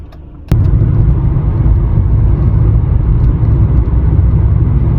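A car drives into a gym parking lot early in the morning, its engine a steady, close, low rumble that starts abruptly after a brief quieter moment and continues evenly to the end.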